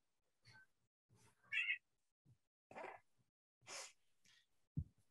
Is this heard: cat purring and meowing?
yes